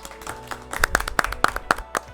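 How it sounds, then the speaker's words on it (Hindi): Scattered handclaps from a studio audience at an Independence Day school quiz show, about eight distinct sharp claps in an uneven rhythm, moderately close, with no voices over them. "एक बार तालियां बजनी चाहिए।"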